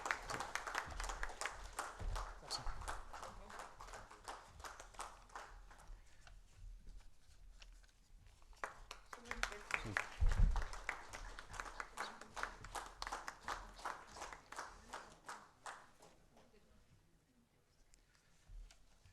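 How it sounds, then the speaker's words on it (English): An audience at an Aadhaar workshop gives a faint round of applause, thin and scattered at first, swelling briefly midway and then tapering off to a few last claps. "So give him a big round of applause."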